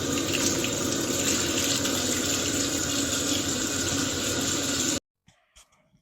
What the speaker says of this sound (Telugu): తర్వాత ఇట్లా వాటర్‌తో అయితే క్లీన్ చేసుకోవాలి మొత్తం చికెన్‌ని.